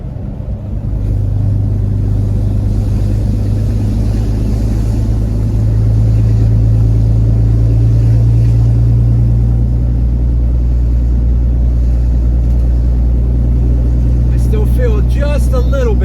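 A lifted 2016 Ram 2500 Cummins diesel pickup cruising down a road, its steady low engine drone and road rumble loud and continuous throughout, with a brief sharper sound near the end.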